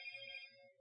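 A phone ringtone plays faintly, a short bright melodic chime of a few notes lasting under a second, heard alone.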